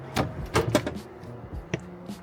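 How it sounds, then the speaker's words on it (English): A camping fridge drawer slides out of a custom boot build in a Land Rover Discovery 3, giving several close, sharp knocks and rattles with a brief metallic click near the end. "Pull the drawer all the way out"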